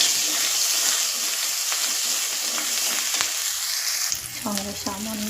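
Spices fry and sizzle in a hot pan with a loud, continuous crackling hiss and occasional stirring scrapes. A voice starts speaking near the end over the sizzle.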